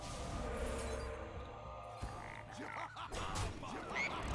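A Hearthstone Hex spell transforms a minion into a frog, giving a short croaking ribbit amid busy card-game effects and background game music, moderately loud throughout, with no talk over it.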